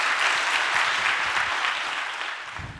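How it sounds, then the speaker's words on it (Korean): Warm applause from a church congregation at a Friday worship service as a missionary is welcomed to the stage, a dense, even clapping that gradually fades over a few seconds. "우리 따뜻한 감사와 또 격려의 박수로"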